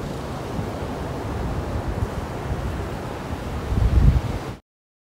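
Sea waves wash along Port Said beach, a steady broadband roar with a swelling surge near the end before the sound cuts off, partly buffeted by wind noise on the microphone.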